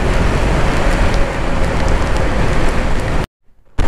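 Steady rain hissing loud and close during a motorcycle ride on a road, a dense continuous wash that cuts out abruptly near the end.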